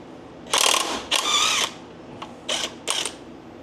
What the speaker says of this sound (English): I'm using a chrome socket on an impact.